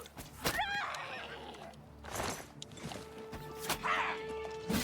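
In the game Oblivion Remastered, a horse whinnies with a short rising cry. Thuds and clattering game effects sound around it at moderate volume.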